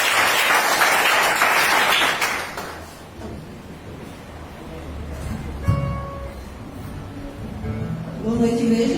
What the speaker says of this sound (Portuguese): Vamos aplaudir o Senhor, que é digno, honra, glória e adoração.